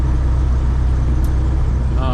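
Steady low road rumble from a Freightliner FLD120 truck cruising at 60 mph at lowered engine RPM, with some vibration, heard continuously from inside the cab; a brief hiss and a faint tone appear near the end.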